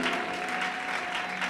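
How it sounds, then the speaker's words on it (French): Church congregation at a worship service applauding for Jesus, a dense, loud and steady burst of many hands clapping together with a faint crowd murmur, brief and close. "Est-ce qu'on peut acclamer pour Jésus?"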